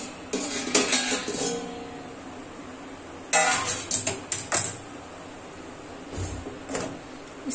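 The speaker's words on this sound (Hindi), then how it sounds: "अब इसको हमने वो जो कढ़ाई रखी थी ना उसमें रख देंगे।" A cake tin filled with chocolate sponge batter is set into a kadhai, producing scattered metallic clinks and scrapes in short bursts separated by quiet gaps, close up and without talk.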